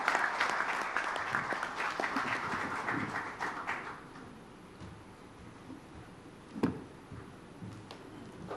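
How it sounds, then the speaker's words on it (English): A conference audience at an energy summit gives a panel a warm round of applause, dense clapping that fades out after about four seconds, leaving quiet room tone with a single knock near the end. "let's give them a very warm round of applause."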